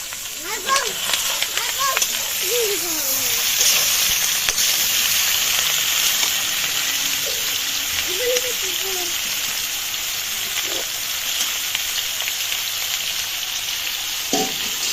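Onions fry in a pan with a steady, bright sizzle as ingredients are stirred in, the crackle running continuously under someone talking.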